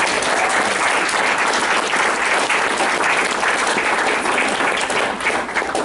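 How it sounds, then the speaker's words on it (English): An audience giving a round of applause for award winners at a meeting, loud, dense and sustained clapping from many hands throughout, with no voices over it. "once we give them a round of applause"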